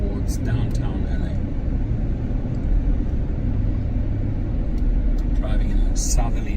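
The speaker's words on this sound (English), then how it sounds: "Driving in a southerly direction on Sunset right now." A car drives south along Sunset Boulevard in Los Angeles, heard from inside as a loud, steady road rumble and engine drone, with a voice speaking over it throughout.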